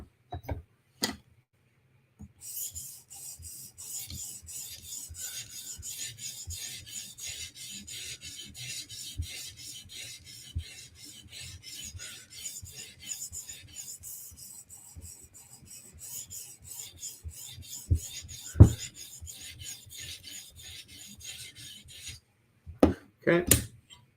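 A knife blade is drawn across a 400 grit sharpening stone in a long run of quick, even rasping strokes, a steady scraping rhythm with a few sharp knocks at the start and end.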